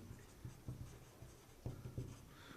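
Writing on a board during a physics lesson, with short scratchy strokes and taps in an irregular rhythm, close and fairly quiet with no talking.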